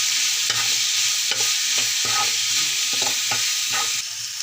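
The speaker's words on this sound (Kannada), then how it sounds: "ಈ ಥರ ಚಲೋತ್ತಾಗಿ ಫ್ರೈ ಆಗಬೇಕು." Masala with turmeric and garam masala sizzles loudly in a pan, a steady dense fry broken by repeated scraping strokes of a spoon stirring it, close and continuous with no voices.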